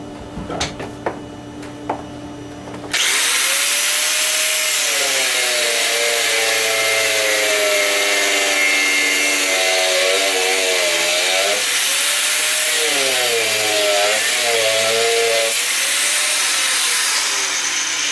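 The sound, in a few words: DeWalt power tool cutting into a halberd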